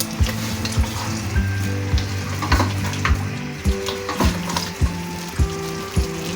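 Meat sizzles steadily in oil in a pan while a utensil knocks and scrapes against the metal in a loose, repeating rhythm, close up, as meat for aloo gosht is browned.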